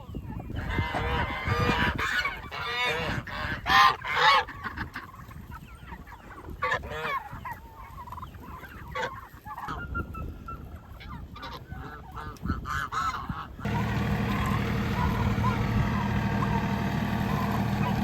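Loud, busy honking and gobbling from a cluster of poultry up close, calls overlapping in bursts, before a steady engine-like rumble takes over near the end.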